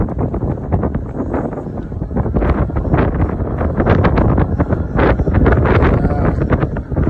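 Strong wind buffets a microphone outdoors in Livingston, Montana, producing loud, continuous rumbling gusts that surge and fade in irregular bursts throughout.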